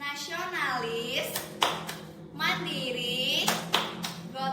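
During the tepuk PPK routine at a morning assembly, a group's patterned clapping breaks through in brief sharp bursts between loud chanted words from a voice.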